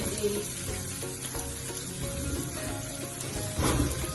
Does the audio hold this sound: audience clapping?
no